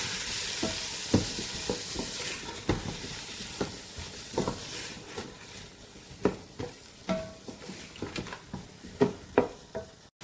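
A spoon stirring Turkish vegetable soup in a pot, giving a series of soft irregular clinks and scrapes over a faint background simmer.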